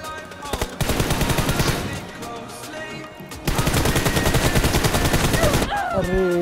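Loud bursts of rapid video game gunfire, two long sustained volleys separated by a brief lull, close and dense.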